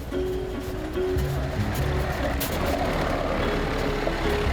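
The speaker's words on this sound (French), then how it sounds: "Premier test, la distance de freinage sur route enneigée." A heavy truck braking on a snowy road in Quebec rumbles steadily with low engine drone and a few tonal squeals, a continuous loud vehicle noise without speech.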